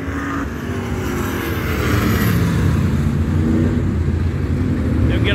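Race cars roar around a dirt track during the A Main feature race, a dense, steady engine drone that stays loud and continuous throughout, with no clear individual pass-bys.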